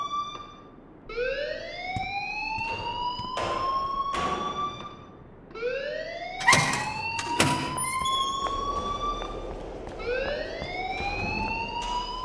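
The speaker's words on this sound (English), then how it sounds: "please turn off that alarm since that's your job." An alarm rings in the video game Life Is Strange: a repeating rising electronic siren whoop, cycling every few seconds, loud and steady, with sharp clanks and clatters scattered through it.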